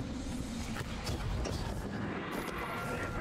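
The electric gun in Destiny 2 fires in a steady, dense, crackling rumble that fills the whole stretch, loud and continuous, with no one talking.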